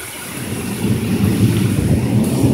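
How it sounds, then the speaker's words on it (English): Low thunder rumbles steadily through heavy rain and wind, heard from the deck of a porch during a storm. The roar is loud and continuous, with no talking. "The lightning, the thunder."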